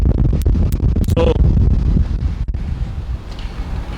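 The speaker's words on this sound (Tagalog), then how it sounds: "masyadong mahangin, pasok ako sa loob." Strong wind buffets the microphone beside a 2016 Mazda CX-5 GS AWD, producing a heavy, continuous rumbling roar with gusty surges throughout.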